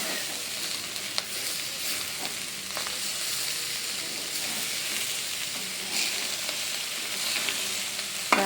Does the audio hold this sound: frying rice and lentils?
yes